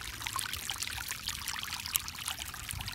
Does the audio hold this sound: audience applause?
no